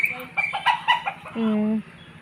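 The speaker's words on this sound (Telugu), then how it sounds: "ఇంకా మా కోళ్ళు చూసారా" Chickens cluck in a short burst of quick, close calls, followed by one drawn-out call, heard alone on an Indian farmstead.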